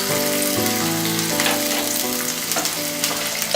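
Chopped onion dropped into two spoons of hot oil for a ridge gourd tomato thokku, frying with a steady, dense sizzle and occasional stirring scrapes throughout, close and fairly loud with no talk.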